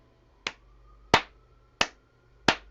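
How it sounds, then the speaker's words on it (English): Four crisp hand claps at a slow, even pulse, each a sharp isolated hit with a short decay, close and alone in a quiet room during a beginner music notation lesson. "I'll clap it."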